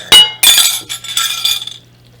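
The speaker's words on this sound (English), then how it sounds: "we have our bowl of pasta, and we're going to get that right on in there and give it a stir" Cooked orzo stirred with a spoon in a glass bowl of oil dressing for a Mediterranean orzo salad, giving a few bright clinks and scrapes close by, loudest at the start and fading out with no talk.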